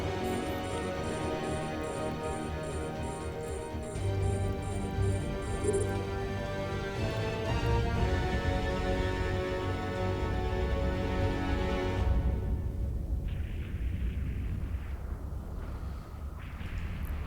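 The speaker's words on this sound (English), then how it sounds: "the artillery is just missing all the time, which we knew it would because it's artillery" Ship artillery firing in the EVE Online space game: a continuous barrage of booming, rumbling shots and bursts layered over game ambience and electronic tones, loud and dense throughout, with no one speaking.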